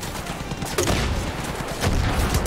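Gunfire in the open-world shooter Far Cry 5 during a hostage mission, rapid bursts of loud shots with a couple of heavier blasts standing out over a dense, continuous combat din.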